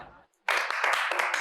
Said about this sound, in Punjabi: ਮਾਰੋ ਤਾੜੀ।